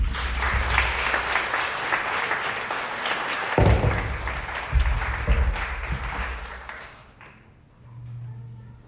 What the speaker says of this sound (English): please start clapping right now for this incredible young lady, Erika